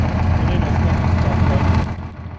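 A Massey Ferguson MF65 tractor engine under rebuild runs with a low, rough, pulsing idle close by, steady for about two seconds before dropping off slightly near the end.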